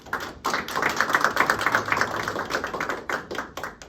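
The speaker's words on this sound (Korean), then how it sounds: "크게 박수해 주시기 바랍니다." An audience claps at a Korean Methodist commissioning service for military chaplains held at the denomination's headquarters. Dense, brisk applause runs throughout, swelling and dipping, with no talking.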